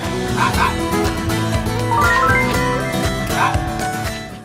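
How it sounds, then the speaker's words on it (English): A dog barks in the PlayStation game The Dog Island: several short, bright yips and woofs over a loud, looping melodic game soundtrack. "If an animal carries an item you need or is near its spot, you use your bark"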